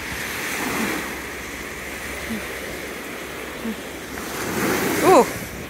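Ocean waves washing onto a sandy beach in Sydney, a soft continuous surf wash with gentle swells and some wind on the microphone, plus brief faint vocal sounds near the end.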